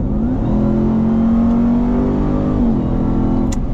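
A Ram TRX pickup's engine pulling hard from inside the cab, a loud steady drone rising slightly in pitch as it accelerates, then easing, with no voices.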